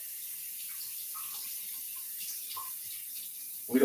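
A kitchen tap runs steadily to rinse a yellow pepper, a soft, constant stream of water with faint splashes shifting as the pepper is turned, ending with a short louder burst, no talk.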